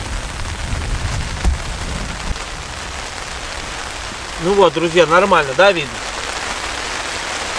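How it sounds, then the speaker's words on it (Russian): Rain falls on a tent at a camp during a two-day hike, a steady soft hiss running through the whole stretch while someone talks near the middle. "Пошел дождь."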